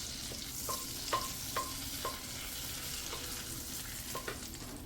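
Bay leaf dropped into melted butter with a little oil in a pan, giving a steady, moderately loud sizzle with a few brief clinks of a utensil scattered through it and no talking.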